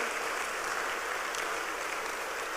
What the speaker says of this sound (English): Somebody rise up and give the Lord a mighty clap offering.